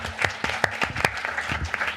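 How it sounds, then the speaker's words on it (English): An audience at the closing session of the ICPerMed Workshop 2019 conference gives a short burst of applause, a dense patter of many hands clapping at a steady level with no voices over it. "I actually suggest an extra applaud for Cristina"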